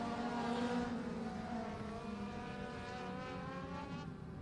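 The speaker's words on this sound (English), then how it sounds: "Checkered flag's going to wave on the Speedway right here to the 8 car of Michael." Legends race cars in a heat race at Maquoketa Speedway: a continuous engine roar with rising and falling pitch as the cars lap, fairly distant and with no talk.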